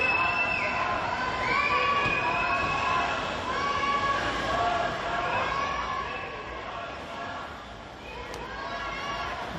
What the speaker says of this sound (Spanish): Gritos contra Pedro Sánchez, escuchábamos